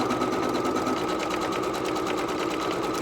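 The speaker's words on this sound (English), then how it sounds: "This is going to stitch over the top. It's going to do the whole outline stitch." A Brother Innov'is 1600E sewing machine runs steadily, stitching an appliqué outline with a fast, even mechanical whir and a rapid needle rhythm that stays close and constant throughout, with no talking.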